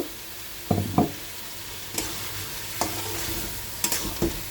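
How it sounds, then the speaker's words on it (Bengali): Fried potatoes stirred into a spice paste in leftover fish-frying oil for a fish curry: a low steady sizzle punctuated by several sharp spatula scrapes and knocks against the pan, close by. "এই মুহূর্তে আমি দিয়ে দেব ভাজা আলুগুলো আলুগুলো দিয়ে একটু কষিয়ে নেব"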